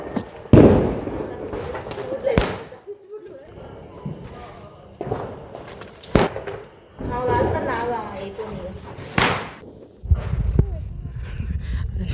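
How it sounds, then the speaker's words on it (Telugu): Diwali firecrackers burst at a home celebration, a series of sharp loud cracks and bangs spread irregularly, some close and some farther off, with crackling and people talking in between. "సో తర్వాత మళ్ళీ క్రాకర్స్ కాలుస్తున్నాము"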